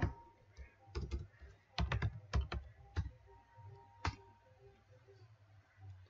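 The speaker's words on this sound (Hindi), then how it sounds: "ईमेल यहाँ पे टाइप कर लीजिएगा" An email address is typed on a computer keyboard, producing a quick irregular run of close, crisp key clicks with short pauses between bursts, in a quiet room with no talking.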